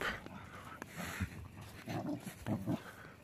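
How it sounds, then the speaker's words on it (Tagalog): Rescued farm dogs play together outdoors, giving off scattered soft yips, whimpers and panting at close range amid rustling movement, with brief bursts of activity. "Laro lang ng laro ang mga aso."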